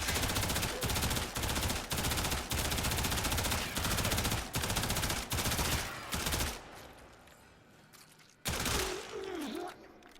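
Soma Prime rifle in the video game Warframe firing in repeated sustained bursts, loud and close, about ten short volleys separated by brief pauses, then a quieter stretch and a final burst with a faint whistling tone.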